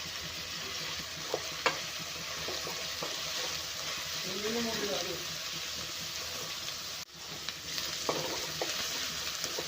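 Noodles frying over a high flame give a steady, close broadband sizzle with occasional stirring clinks and scrapes, holding even throughout with a brief dip near the end.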